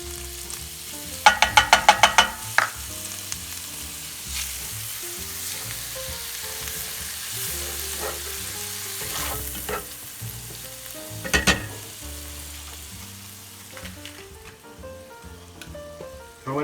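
Peppers sizzle in melted butter in a frying pan, a steady close frying hiss with a burst of spoon clatter and stirring scrapes early on and a few more knocks later, with no talking.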